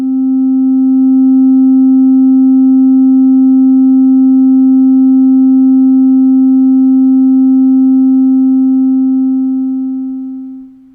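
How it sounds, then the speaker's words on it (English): A Eurorack-style VCO module outputs a steady, pure sine tone held at one low-mid pitch, loud and unchanging for about ten seconds before fading out at the end. "the sine wave output of the acVCO is approximately 1 octave lower than the saw wave output"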